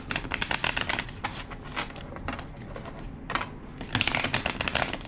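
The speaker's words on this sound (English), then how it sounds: "Two more shuffles." Rapid riffling bursts of a deck of cards being shuffled, several quick rounds with brief pauses between, fairly close.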